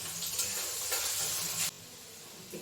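Chopped onion and garlic frying in a hot pan, with a loud, bright sizzle and a little stirring that drops suddenly to a quieter hiss partway through, close up and with no talking.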